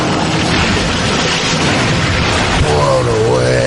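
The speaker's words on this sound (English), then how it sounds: "the bomb kind of goes off" A film bomb blast in Blown Away: dense, sustained roaring rumble filling the whole clip, loud and wide, with a brief sharper burst late on and a faint voice-like tone near the end.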